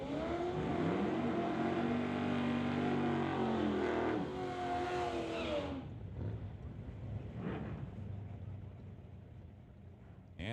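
A drag race car on an NHRA Summit ET bracket strip revs hard and launches with a loud, rising engine roar that cuts off sharply after about six seconds, leaving a fainter, more distant engine drone and crowd ambience.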